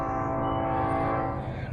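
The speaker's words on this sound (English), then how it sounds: "You might even be able to see that train down there." A train passing below in a river valley along the Appalachian Trail in Pennsylvania, heard as a steady mechanical rumble with tonal horn-like hum, continuous and moderately distant, with no talking.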